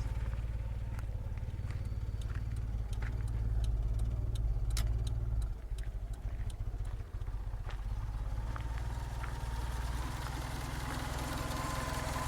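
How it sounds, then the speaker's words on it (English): A 1993 Toyota Corona engine idles steadily on LPG, a low continuous hum with faint ticking, heard close up without any talk for about twelve seconds. "When you switch it to LPG is a little bit quieter on this engine."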